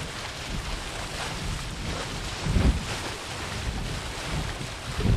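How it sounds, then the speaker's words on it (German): Strong, freshening wind buffets a sailboat on open water, with steady roaring gusts, microphone wind noise and waves washing against the hull, no voices. "Der Wind hat kräftig aufgefrischt."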